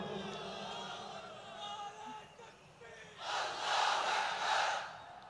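Crowd at a Bangladeshi political rally roaring the takbir chant, a loud mass shout swelling in after a stretch of lower crowd murmur and voices, then holding strong to the end.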